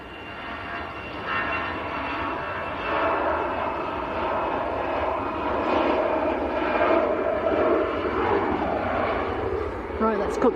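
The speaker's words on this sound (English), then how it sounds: "Lufthansa on the roll going out to Frankfurt" Lufthansa airliner rolling for takeoff at Manchester bound for Frankfurt, a broad jet roar building gradually over several seconds while people talk nearby over it.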